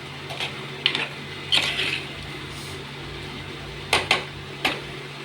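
A spoon stirs curry in a clay pot, making a few scattered scraping clicks and soft knocks against a low steady hum.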